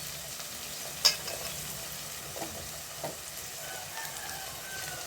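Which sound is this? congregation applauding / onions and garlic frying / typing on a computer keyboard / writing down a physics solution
onions and garlic frying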